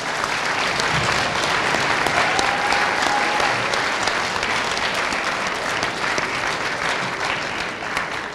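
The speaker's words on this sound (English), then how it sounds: "Let's give them one more round of applause," Sustained applause from a school audience honoring students at a Rochester middle school ceremony, dense and steady throughout with no clear talk on top.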